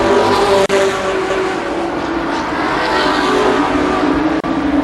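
Race cars roar around Columbus Motor Speedway during a 1993 ARCA Supercars event, a loud continuous engine drone with steady revving close by and no break.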